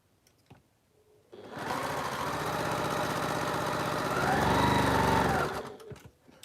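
A sewing machine starts up and runs at a fast, steady whir for several seconds, rising slightly before stopping, with faint clicks around it.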